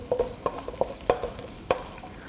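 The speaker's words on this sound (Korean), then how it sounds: "이렇게 약간 자글자글 끓을 정도의 불로 조절해 주셔야 됩니다" Garlic stir-frying over low heat for a seafood nurungji soup, giving a soft, quiet sizzle broken by several sharp scraping taps of a utensil against the pan.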